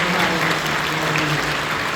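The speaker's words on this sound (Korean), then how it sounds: "여러분 뜨겁게 박수 주시기 바랍니다." A church congregation applauds during a Sunday service, steady dense clapping held at an even level for the full stretch, with a low sustained tone running beneath it.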